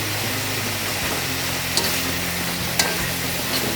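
A spoon stirs tinola soup in a pot over steady cooking sizzle, with a couple of sharp scrapes against the pot's side.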